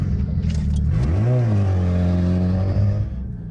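A Honda Civic rally car drones close by on an off-road lap, its engine pitch climbing briefly, then holding a steady hum before easing off near the end.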